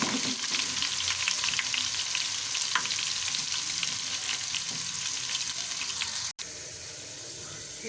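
Onions that have turned light brown sizzle loudly in a pan with ginger garlic paste for a Punjabi kadhi pakora, a close, dense, continuous frying hiss with small crackles and a brief break near the end.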